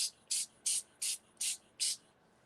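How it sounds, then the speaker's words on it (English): Six quick hissing bursts from a spray bottle misting paper, evenly spaced and fairly close, with short quiet gaps between each spritz. "so we're gonna spray our paper,"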